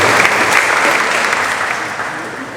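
An audience at a commemorative evening for the Chilean coup of 11 September claps warmly for Carolina Echeverria, a loud, dense burst of applause that fades slightly over a couple of seconds.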